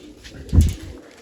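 A large pigeon gives a single low, throaty coo close by, rising and fading within about a second against a quiet background.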